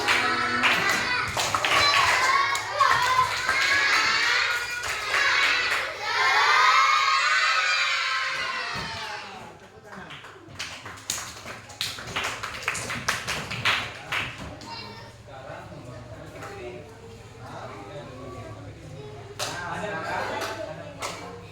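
Children in a classroom do a tepuk semangat clapping chant, voices chanting and shouting along with bursts of rhythmic group claps, after which sparser scattered claps and taps continue under talk.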